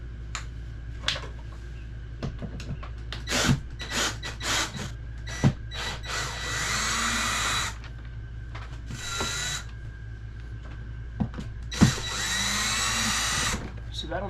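Power drill spinning out screws on an RV rooftop air conditioner in repeated short whirring bursts, some with ratcheting clicks, alongside a steady hum, with a person talking between bursts.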